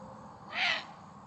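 A single brief, faint owl call rising out of a quiet background, heard once from a bird of prey at close to middle distance with no voices.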